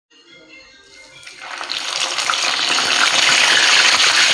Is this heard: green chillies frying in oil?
yes